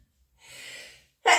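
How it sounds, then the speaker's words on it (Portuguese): A person draws a long, breathy inhale, then lets out one sharp, loud sneeze at close range. "Eu vou espirrar."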